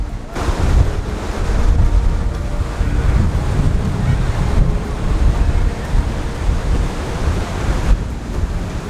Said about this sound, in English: I can see why people like to come to Cancun for the water, but it's crazy the waves.